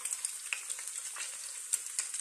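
Chocolate-stuffed French toast slices frying in an oil bath give a quiet, steady sizzle with small crackling pops throughout. No one talks.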